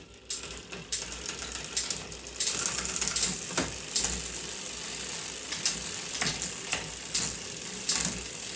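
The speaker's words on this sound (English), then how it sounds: "this is the Deore M591 rear derailleur with the 11 to 46 tooth cassette" Shimano Deore M591 rear derailleur shifting across an 11-46 tooth cassette on a gravel bike: repeated close mechanical clicks and ratcheting chain clatter in irregular bursts, with no talk.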